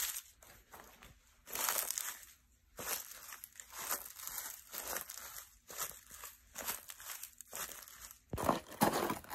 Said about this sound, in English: I'll add some leaves